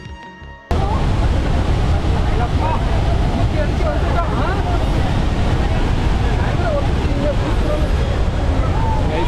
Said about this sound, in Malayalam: ഇതാണ് നമ്മുടെ അതിരപ്പള്ളി വെള്ളച്ചാട്ടം. മൺസൂൺ സീസൺ ആയതുകൊണ്ട് തന്നെ നല്ലോണം വെള്ളമുണ്ട്. കണ്ടില്ലേ എന്ത് ഫോഴ്സിലാണ് വീണെന്ന്.